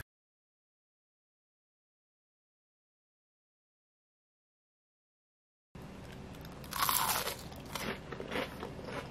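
After a long silence, someone bites into a crispy deep-fried lettuce fritter, giving a few sharp, close crunches followed by quieter chewing crackles.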